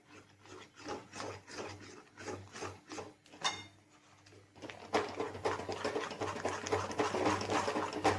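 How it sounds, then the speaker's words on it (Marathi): A spoon stirs gram flour batter thickening in a pan with soft rhythmic scraping strokes, close and quiet at first, then a faster, denser, louder scraping. "सतत हलवत राहायचं म्हणजे ह्याच्या गुठळ्या होत नाहीत"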